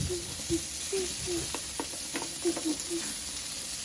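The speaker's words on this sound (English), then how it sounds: "The meat is burning now." Sausages frying in a pan at home, a steady low sizzle with scattered pops and crackles, moderately close, with a few tonal kitchen noises over it and no talking.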